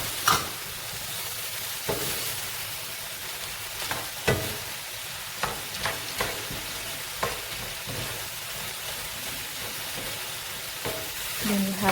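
Pasta frying in a pan for Spanish fideuà, a continuous loud sizzle with repeated scraping stirs and clatters of a utensil against the pan, no voices.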